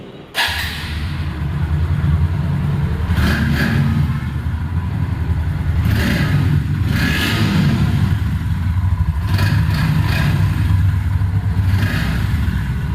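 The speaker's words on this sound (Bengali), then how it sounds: "দেখাবো আপনাদেরকে এই বাইকটির সাউন্ড কন্ডিশন" A used Bajaj Pulsar NS 125 motorcycle engine runs close by at a steady idle for the whole stretch, with a few brief throttle blips and a light mechanical clatter and no talk.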